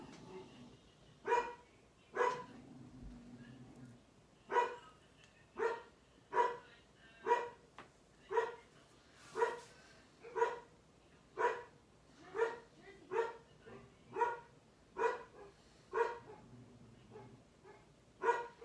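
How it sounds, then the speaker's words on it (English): A dog barks repeatedly indoors in a steady, insistent rhythm of about twenty single barks at moderate volume, with faint room noise between them. "my dog won't stop barking"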